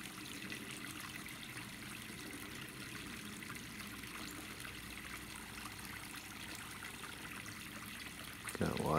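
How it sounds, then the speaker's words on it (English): Water seeping and trickling through a dam under repair, a steady broadband rush that holds at an even level throughout, with a sharper splash-like burst near the end. "Got water coming through."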